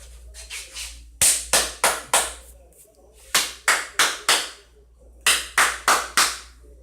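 Hands clap in a church service, in loud sharp bursts of four claps with brief pauses between them, with faint talk in the background.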